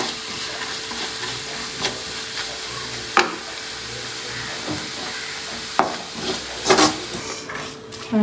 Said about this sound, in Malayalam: ഇപ്പം സവാളയും ചെമ്മീനൊക്കെ നന്നായിട്ട് ഫ്രൈ ആയിട്ടുണ്ട്.